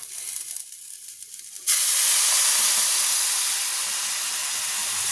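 Warm water poured into a pan of lightly fried soaked pulao rice, erupting into a sudden loud, steady hiss and sizzle after a quieter start, then settling to a sustained steamy fizz.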